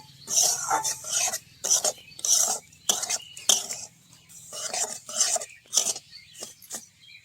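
A spoon scrapes and clinks repeatedly against a cooking pot as sugar is stirred into a sweet, making short irregular metallic strokes close up with brief pauses between them.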